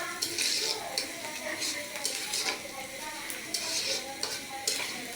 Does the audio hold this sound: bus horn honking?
no